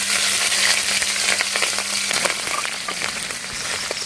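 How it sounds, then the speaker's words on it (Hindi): Sliced onions and green chilies frying in hot oil, a steady close crackling sizzle with occasional stirring scrapes and a faint low hum in the background, no voices. "जब तक प्याज गोल्डन कलर नहीं होता है तब तक हम फ्राई करेंगे"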